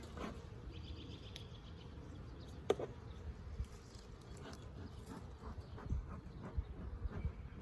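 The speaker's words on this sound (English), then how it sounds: "Not as many bees in here." Honey bees buzz faintly inside an early-March hive with a small cluster, a low steady drone with scattered sharper ticks and rustles close by.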